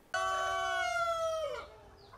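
A free-range farm rooster gives a single long, loud crow close by. The call holds steady, then drops and trails off at the end, against a quiet background with no talking.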